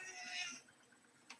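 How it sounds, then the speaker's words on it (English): A domestic cat gives one faint, drawn-out meow in the background, then goes quiet apart from a brief soft sound near the end. "You guys hear my cat?"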